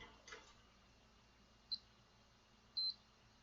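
A multimeter on diode-check mode gives two short, faint electronic beeps about a second apart over quiet room hiss during repair of a Taramps DS800X2 car audio amplifier.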